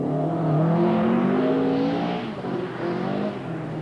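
Rally car 30 working through a stage of the 1980 Motogard Rally in New Zealand, its engine rising in a loud, close, revving pull before easing off and picking up again, with no voices.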